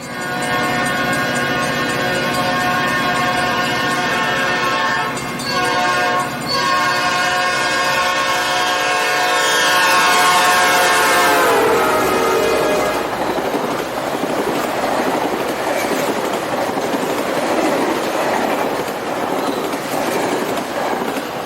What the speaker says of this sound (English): watch as a westbound express flies through the station, using its horn to warn those